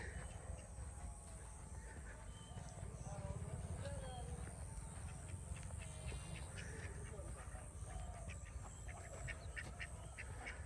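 Domestic and Chinese ducks quack repeatedly at a moderate distance on a hobby farm, a busy chorus of calls over a constant low rumble, with voices talking faintly in the background.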